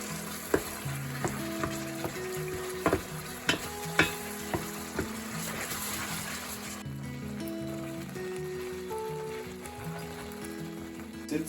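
Marinated turkey and onion paste being stirred in a non-stick pan, a steady sizzle under repeated scraping strokes of a utensil, close and clear throughout with no talk.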